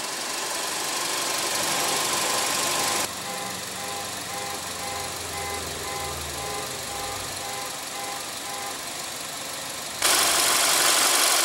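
A 2016 Volkswagen Passat's 1.8 L turbocharged inline four-cylinder idles steadily with a smooth, even hum, heard alone without talk.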